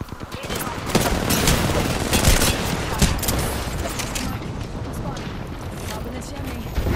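A continuous video game firefight rolls on, dense overlapping shots and booms forming a loud, steady barrage with a few sharper cracks standing out.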